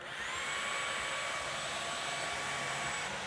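A Shark Detect Pro cordless stick vacuum runs steadily with a broadband whoosh and a high-pitched motor whine, constant and close, with no voices.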